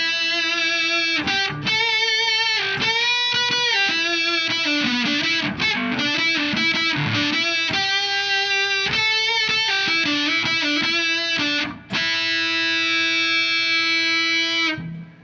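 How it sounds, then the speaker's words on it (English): Electric guitar through a fuzz pedal playing a run of fuzzy, buzzing notes, loud and up close, ending on a long sustained chord. "If I turn the gain up more, you're already starting to hear that distortion come through."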